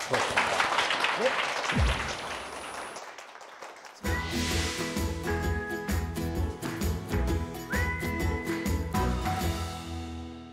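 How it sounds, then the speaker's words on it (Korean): An audience claps for a lecture on parenting for a studio show, a brief burst of applause that fades to near silence before music with bright tones starts up and carries through to the end. "우리 힘찬 박수로 우리 강연 들어보도록 하겠습니다"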